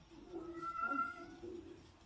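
A cat lets out a drawn-out, wavering meow, faint and close, then a second softer mew trails off.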